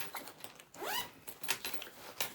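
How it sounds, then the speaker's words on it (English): A zipper pulled along the back pocket of a 17.3-inch MATEIN laptop backpack: a quick, close zip stroke with light rustling and small fabric and strap handling noises around it. "we also have a zip at the back"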